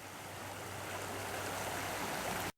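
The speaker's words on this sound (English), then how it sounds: "the creek is flowing pretty strongly" A creek flows strongly below its banks at night, a steady loud broadband rush of water that fills the whole clip before cutting off abruptly near the end.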